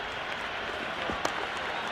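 A packed cricket stadium crowd at an Afghanistan vs Zimbabwe match sends up a dense, steady roar from the stands, constant and loud throughout, with a faint clap or thump standing out briefly.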